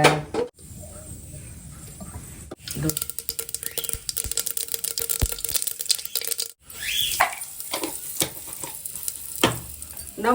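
Sambar tempering crackles in hot oil with onions and asafoetida, a busy sizzle broken by scraping stirs and clatter of a pot, occasional brief pauses and a voice talking at times.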